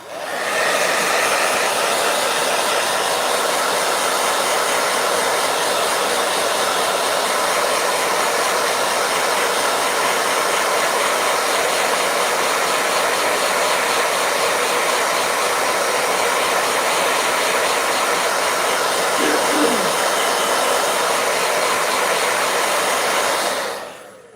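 A blow dryer runs nonstop at close range for over twenty seconds, a loud steady airy roar with an even hiss, cutting off at the very end.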